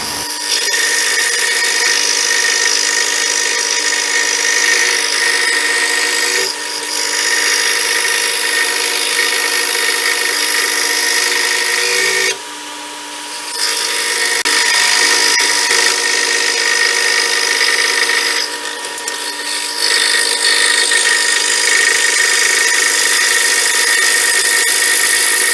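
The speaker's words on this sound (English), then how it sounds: "we need to drill out these 7 holes" A power drill whines steadily and loudly while boring holes in scrap wood for a pen stand, with two brief pauses and a short dip in pitch, close and continuous with no talking.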